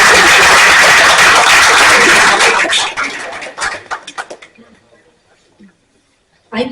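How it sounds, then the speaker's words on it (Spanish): Loud audience applause at an exhibition presentation with a dramatized reading, a thick wash of clapping that breaks into scattered claps after a few seconds and dies away to near silence. "un aplaudiment."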